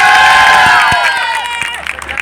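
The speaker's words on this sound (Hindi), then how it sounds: "जोरदार उनके लिए ताली बजाओ" Audience at a ragni competition in Kuchesar Road Chopla clapping and cheering loudly as a dense, continuous crowd roar, with whistles and shouts rising over the applause throughout.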